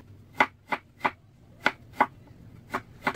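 Knife slicing burdock root thinly on a cutting board: crisp, close chops in an uneven rhythm, about eight distinct strokes separated by short quiet gaps.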